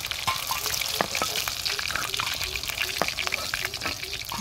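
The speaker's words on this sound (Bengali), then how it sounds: "মাংসটা অনেক সুন্দর করে ভাজা হয়েছে এখন আখি নামিয়ে নিতেছে" Chicken meat frying in oil in a pan in a village kitchen, a steady crackling sizzle with scattered pops and stirring scrapes running throughout, fairly close.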